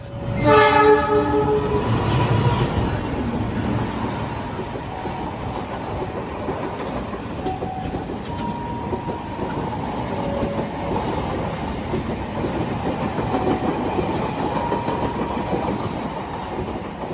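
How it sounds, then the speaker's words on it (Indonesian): A train rumbles past steadily for the full stretch, with a loud horn blast at the start and a continuous rolling clatter of wheels on rails, as the Argo Merbabu passes straight through a station in Indonesia. "Yang akan melintas langsung adalah kereta api Argo Merbabu"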